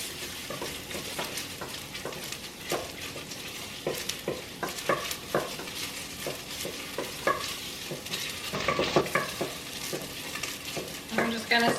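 Garlic frying in a pan, a steady close sizzle with repeated stirring scrapes and clicks throughout, no talking.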